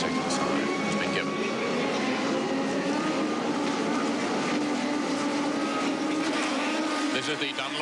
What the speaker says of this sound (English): 30 laps, 16 cars starting, and it's a good start by many